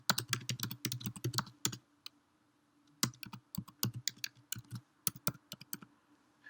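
Fingers type on a computer keyboard while entering a name into a Gmail sign-up form in a web browser, in quick clattering bursts of keystrokes with a short pause near the middle.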